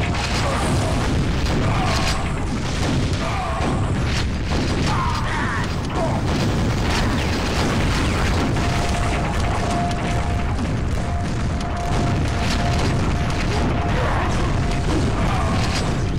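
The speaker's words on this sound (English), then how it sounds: "I got the guy with the rocket launcher" Rocket launcher explosions in a Quake Remastered deathmatch video game: dense, continuous game action with booming blasts and mechanical clanks throughout, loud and busy.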